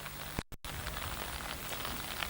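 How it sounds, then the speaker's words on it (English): Welsh rain falls steadily on a seaside town of terraced houses, a dense, even patter close by that cuts out for a split second early on and then continues unbroken. "That unique Welsh rain sweeping off the sea, twisting round the corners of the terraces, creeping under slates."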